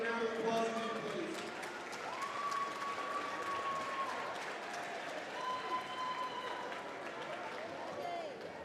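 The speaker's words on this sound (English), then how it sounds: "Give them a big round of applause, please" A crowd in a high school gym applauds senior basketball players at a boys' and girls' game night, with sustained clapping and murmuring voices throughout, plus occasional high squeaks.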